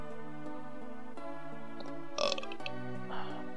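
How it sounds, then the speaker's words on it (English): A short, throaty burp cuts in midway over steady electronic background music from the Mystic Quest video game, then the tones carry on. "Nice little random burp"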